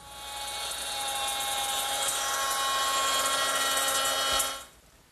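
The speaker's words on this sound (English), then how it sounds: "to do that I'm going to use my router with a 1/4-inch slot cutter" A router fitted with a 1/4-inch slot cutter screams at a high steady whine while grooving the edge pieces of a wooden desk top, close and loud, then spins down quickly at the end.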